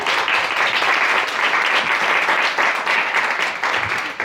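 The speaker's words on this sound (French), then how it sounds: "On l'applaudit." A studio audience applauds to welcome a guest author onto a French-language talk about emotional intelligence, a dense, steady burst of clapping from many hands that holds loud and even before tapering slightly at the end.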